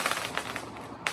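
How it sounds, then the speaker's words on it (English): Ground fireworks crackle and pop at a distance during a Canada Day celebration, a quick irregular series of faint bursts with a slightly sharper crack at the end. "We got some ground fireworks going off down over there."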